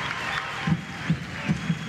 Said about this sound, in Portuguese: merece o aplauso de pé que lhe está a ser dado aqui das bancadas do estádio de Vizela